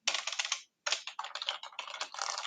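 Close, clicky typing on a computer keyboard, rapid keystrokes in two bursts separated by a short pause, crisp and fairly quiet.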